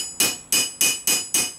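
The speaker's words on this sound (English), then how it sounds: "Just hammer it out the way really" Five evenly spaced hammer blows ring out on a metal rivet in medieval armor, each a sharp, bright clang with a short metallic decay, close and clear with no talking.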